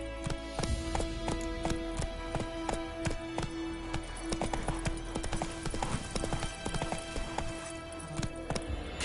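Roach, a horse in The Witcher 3 video game, gallops in a steady, fast clip-clop of hooves throughout, loud and close over a dense game soundscape with a brief whinny-like accent.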